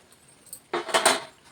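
Spices and chicken curry being stirred in a pan with green chilli, coriander powder, chicken masala and garam masala, heard as a quiet metallic scraping and clinking burst of several close strokes after a near-silent start.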